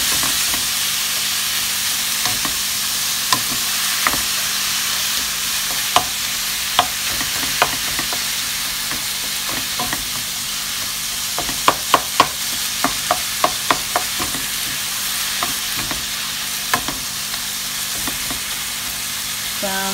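Minced meat for ragu sauce sizzles and browns in a pan in a home kitchen, a steady close frying hiss punctuated by sharp scraping clicks of a utensil stirring against the pan.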